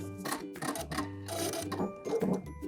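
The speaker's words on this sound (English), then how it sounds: "When you get to the end, overlap your stitches and back stitch and cut." A sewing machine back stitches fabric for high-waisted panties, its motor whirring close in short, uneven bursts with rapid ticking as the stitching reverses and overlaps.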